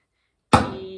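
A single sharp hit on a drum head, close and solid, with a short ringing decay and faint rattle trailing off, followed by a click.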